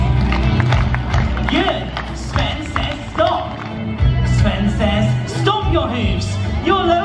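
On a Disney cruise ship deck during a party in Alaska, a crowd claps and stomps in scattered bursts alongside cheering and background music, while a voice leads the group.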